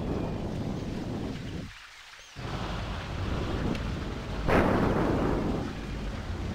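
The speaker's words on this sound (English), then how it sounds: "And it's raining." In the video game Ultima IX, rain and wind hiss in a steady wash while deep thunder rumbles, dropping briefly to near silence before a louder, sharper crack and a rolling boom, with no one speaking.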